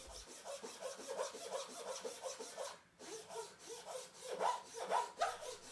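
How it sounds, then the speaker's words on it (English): A kumiko saw cuts a curve into a thin wood strip, a quiet, close series of rapid rhythmic rasping strokes that continues with one brief pause midway. "I then establish the curve with my kumiko saw. I begin cutting in that curve at an estimated 30 degrees."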